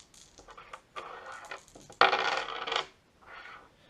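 Zombie Dice dice are drawn and rolled: a short rattle, then a sharp clatter as the dice hit the table and tumble for under a second, with fainter rattles before and after.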